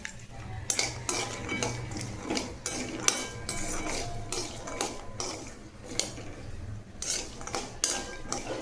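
Walnuts dry roasting in a pan over low heat, stirred with a utensil that scrapes and clinks against the metal in irregular bursts, with a faint background hum and no talking.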